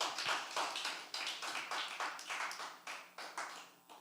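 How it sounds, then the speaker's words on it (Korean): A church youth service congregation claps together, a fairly quick rhythm of sharp slaps that thins out toward the end, moderately distant with no talking. "좀 박수를 치면 안 돼요?"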